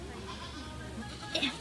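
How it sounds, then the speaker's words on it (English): Goats at a petting zoo let out a short bleat near the end, over faint background murmur and voices. "I think they're goats."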